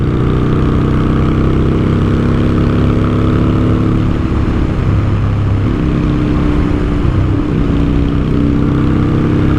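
Close, loud, continuous rumble of a Honda Shadow motorcycle engine at idle, a steady low drone that wavers slightly in pitch throughout.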